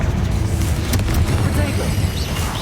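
A fiery Confringo blast spell bursts in Hogwarts Legacy, a loud booming explosion layered over dense, rumbling game combat noise with a few sharp crackling hits throughout.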